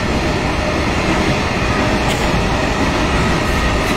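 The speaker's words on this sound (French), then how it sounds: "ils ont encore les trains de marchandises" A freight train rumbles past nearby, loud continuous rolling wheel noise with a faint squeal, filling the whole stretch.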